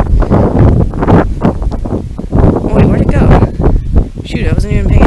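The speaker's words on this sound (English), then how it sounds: "Starting to get windy again." Gusty wind buffets the microphone in loud, uneven bursts, with a voice talking over it.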